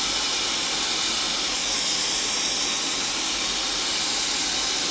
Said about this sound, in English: So my diffuser right now, the heat setting is like on a medium-high heat.